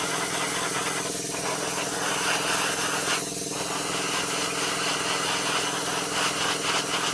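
An airbrush sprays air only to flash-dry varnish on a Tamiya 1/12 Yamaha YZR-M1 motorcycle model, a steady close hiss of air with a constant hum behind it and brief changes in tone.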